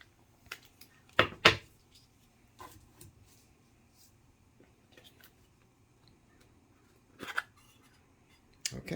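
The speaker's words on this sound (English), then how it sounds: "let's go ahead and take this off. This is some electrical tape." Electrical tape being peeled from an Altoids tin: a few sharp crackling tears near 1.3 s and again near 7 and 9 s, separated by quiet handling noise, close and fairly soft with no talking.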